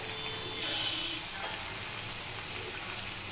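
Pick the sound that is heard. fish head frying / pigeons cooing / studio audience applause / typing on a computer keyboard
fish head frying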